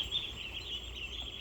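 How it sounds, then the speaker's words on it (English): Baby ducks in a brooder pen, a steady mass of high-pitched peeping and chirping with no pauses, close and moderately loud, with no talk over it. "There's all the baby ducks."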